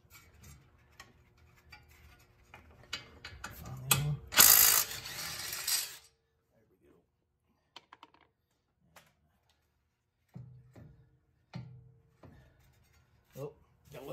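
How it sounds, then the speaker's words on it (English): A ratchet works a brake caliper bolt loose on a BMW Z3 wheel hub job, sounding in a rapid clicking burst mid-clip followed by quieter scattered metallic clicks and knocks, close up in a garage with no speech. "go ahead and take the caliper back off. So there's one screw"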